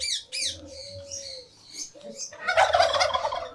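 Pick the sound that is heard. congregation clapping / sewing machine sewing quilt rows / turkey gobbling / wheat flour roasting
turkey gobbling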